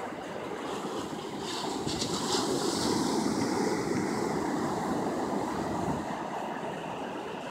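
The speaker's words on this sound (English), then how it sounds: "Ocean waves." Steady wash of ocean surf on a beach on a December morning, continuous and close, swelling slightly in the middle, with some wind noise on the microphone and no voices.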